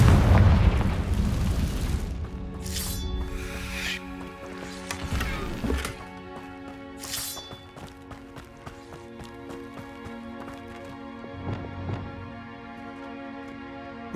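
Spell explosion from Confringo in Hogwarts Legacy, a loud burst at the start followed by a long ringing decay under a sustained game music bed, with a couple of further bright impacts later.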